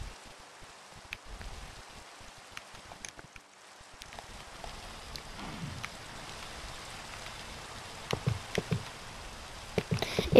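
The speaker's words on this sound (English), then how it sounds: "Raining." Steady soft patter of rain falling in a video game, with scattered drips and a few light taps and thumps in the foreground; no talking.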